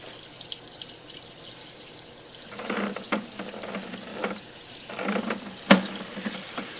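Water runs from a tap into a bucket near a floor drain at a residential property. It starts as a soft trickle, then grows into louder, uneven splashing and gushing, with a sharp clank partway through.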